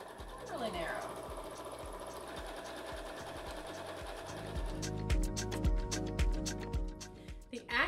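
A Horizon Memory Craft 9480QC sewing machine does free-motion stitching, a rapid, even mechanical chatter that grows louder and busier halfway through, with a voice briefly present near the start.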